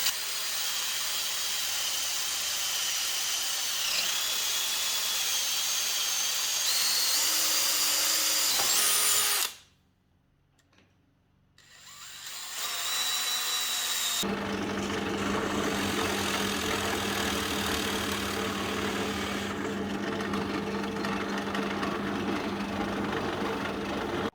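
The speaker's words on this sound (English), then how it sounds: "So I'm just drilling the holes for the mounting brackets" Whining power drill drilling holes for awning mounting brackets on a 4x4, running steadily and close, pausing briefly midway, then resuming with a lower, grinding tone as it bites into material.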